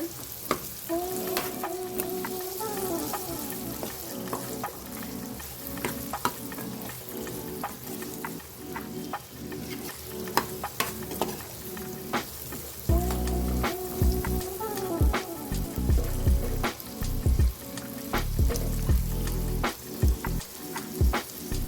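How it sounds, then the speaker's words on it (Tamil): Mango pickle sizzles steadily in hot oil over a low flame, with intermittent scrapes and clatters from stirring, growing louder and busier in the second half; no voices. "இது வந்து லோ ஃப்ளேமில் இருந்தாலும் நீங்கள் அப்பப்போ இதை ஸ்டர் பண்ணினே இருக்கணும்"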